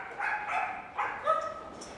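A sheepdog working sheep gives a few short barks and yips close by, three or four bursts over about two seconds against quiet outdoor background.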